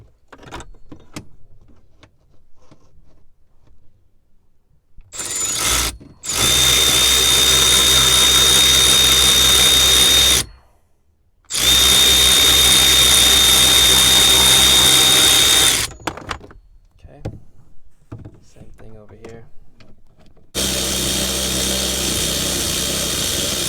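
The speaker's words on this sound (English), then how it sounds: "Now, take my ratchet." A ratchet loosening the steering lock screws on a 2008-2014 Mercedes C-Class W204, three loud, long whirring bursts separated by short pauses, with faint clicks and handling noise in between.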